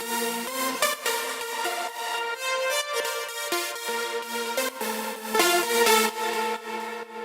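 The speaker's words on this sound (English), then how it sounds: "the saw layers sound like this." Layered saw-wave synth leads from an FL Studio electronic track play a bright, buzzy melodic riff of stabbing notes and held chords, loud and upfront with no voice.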